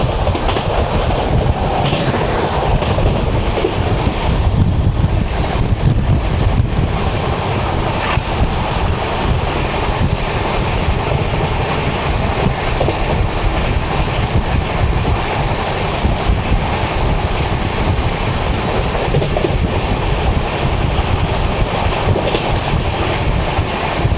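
Delhi–Amritsar train heard from inside a sleeper-class coach as it runs through a station without stopping: a steady, loud rumble with rhythmic clickety-clack of wheels over rail joints, continuous throughout with no talking.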